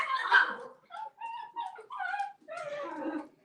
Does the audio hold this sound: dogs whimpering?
yes